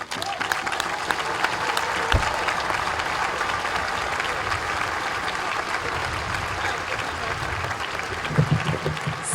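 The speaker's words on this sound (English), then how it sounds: "I'm gonna give us a round of applause" A large crowd at a Black Lives Matter rally in Montpelier, Vermont applauds steadily for several seconds, a dense wash of clapping with a few louder claps and cheers near the end.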